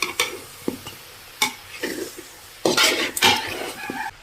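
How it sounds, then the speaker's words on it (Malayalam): A spoon stirs avial in a metal pot after slit green chillies go in, giving several loud scraping and clanking strokes against the pot with a faint sizzle underneath, close up and without speech. "കീറിയിട്ട് എന്നിട്ടൊന്ന് ഇളക്കി കൊടുക്കാം."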